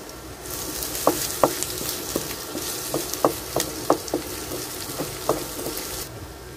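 Ginger sautés in a hot pan with a steady sizzle while a spatula scrapes and taps the metal at irregular intervals, close and clear with no talking.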